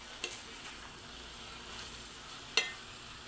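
Sisig with pork liver and pork chicharon sizzling in a pan, a faint, steady hiss with a couple of sharp utensil clinks, no talking.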